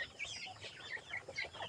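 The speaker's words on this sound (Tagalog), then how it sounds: "Rhode Island Red." Rhode Island Red hens clucking in a farm pen, a steady run of short, overlapping clucks and calls at moderate distance, with no talking.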